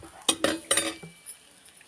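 A spoon stirring vegetables in a metal pot, with a few sharp clinks and scrapes in quick succession, then a softer knock and quiet, close and alone.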